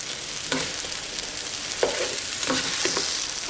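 Chicken adobo browns in a pan with garlic, a soft steady sizzle broken by a few short scraping stirs of a utensil, close and fairly quiet.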